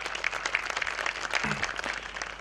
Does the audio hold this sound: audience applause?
yes